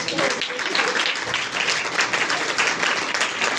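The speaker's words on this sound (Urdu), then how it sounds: "اپنے لیے تالی بجا لیا کرو کبھی کبھار۔" A church congregation breaks into loud, continuous applause during a sermon on offerings in worship, a dense wash of many hands clapping at once that holds steady for several seconds.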